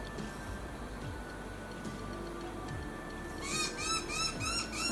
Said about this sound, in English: You can hear that butcher bird?